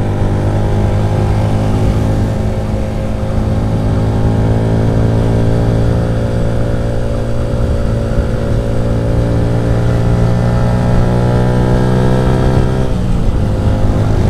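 Bajaj Rouser NS125 motorcycle engine pulling uphill, a steady loud drone that rises gradually in pitch over several seconds, then drops sharply near the end as the rider shifts gear and climbs again.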